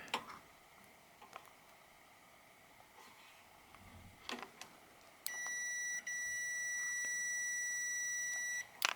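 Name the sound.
multimeter continuity beep testing a switch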